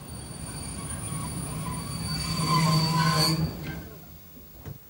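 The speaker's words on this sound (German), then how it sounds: "Die Schublok drückt noch einmal kräftig nach, bis Kandersteg erreicht ist." A train climbs the steep Lötschberg line toward Kandersteg in Switzerland, with a pusher locomotive at the rear. A loud, rumbling run builds to a squealing peak, then drops off abruptly into fainter rolling noise.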